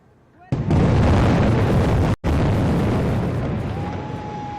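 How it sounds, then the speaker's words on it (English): Demolition blast bringing down the Georgia Dome walls in Atlanta: a sudden loud boom with a heavy, sustained rumble of collapsing structure that slowly fades, no voices over it. "Dome in Atlanta came crashing down with a bang early this morning."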